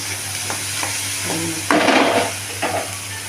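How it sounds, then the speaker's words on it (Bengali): Masala is sautéed and stirred in a pan for a chana dal dish, with a close steady sizzle, a few scraping strokes, and one louder burst of hissing partway through. "কষিয়ে নিচ্ছি"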